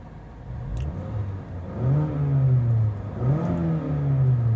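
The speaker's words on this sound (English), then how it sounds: "Let's listen to the engine rev on this thing." A 2021 Mazda hatchback's four-cylinder engine revs up twice, the pitch rising and falling with each throttle blip, close by with no talking.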